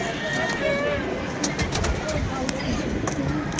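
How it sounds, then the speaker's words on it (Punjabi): Domestic racing pigeons coo from a rooftop loft, soft repeated calls sitting within a dense, constant background murmur. "ਇਹ ਦੇਖੋ ਨਾ ਮੇਰੇ ਜਿਹੜੇ ਉੱਡੇ ਕਬੂਤਰ ਨਾ ਇਮਰਾਨ ਭਾਈ"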